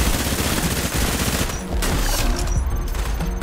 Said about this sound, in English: when I'm shooting them